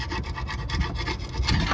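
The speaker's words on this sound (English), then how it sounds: "I'll give it all a bit of a scrape." Steady rasping scrape of a tool over a car drive shaft part near the bearing seat, a Peugeot being repaired in a car park, continuous and close with no talk.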